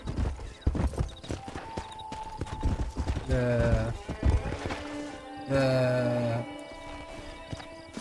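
A horse in Red Dead Redemption clops its hooves and lets out two loud, drawn-out whinnies amid scattered game sounds, with someone talking over parts of it.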